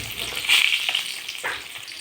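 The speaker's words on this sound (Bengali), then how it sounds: "মাছটা দেখো ব্রাউন কালার করে ভাজা হয়ে গেছে" Pieces of rohu fish fry in hot oil until browned, a loud, steady sizzle with brief bursts of crackling spatter and faint stirring noises.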